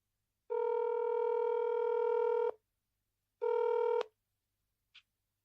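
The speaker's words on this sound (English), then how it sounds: "Answer your phone." A phone rings for an incoming call with two steady electronic tones, a long one then a shorter one after a pause, loud and clear in a quiet room, followed by a faint click.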